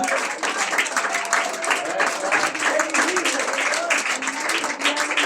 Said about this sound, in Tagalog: Palakpak natin ang ating mga kamay sa Panginoon.